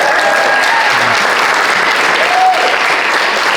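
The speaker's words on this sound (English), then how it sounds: "so give him a round of applause" A convention panel audience applauds for a horror film actor, steady dense clapping filling the room throughout without pause.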